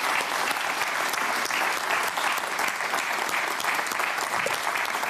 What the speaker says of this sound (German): Einen tollen Applaus für unsere tollen Kandidaten.